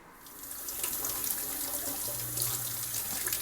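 Tap water runs steadily to wash kale, a close, continuous hissing stream splashing into a sink with no voices.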